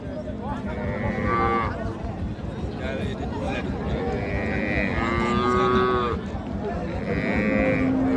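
Several loud, drawn-out cattle moos close by at a cattle market, from Sahiwal cows and calves, repeating every couple of seconds over a busy background of crowd chatter.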